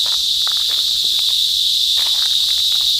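Tiny insects in the hills near mountain springs give a loud, unbroken, shrill chirring drone that holds steady throughout, with faint rustling underneath.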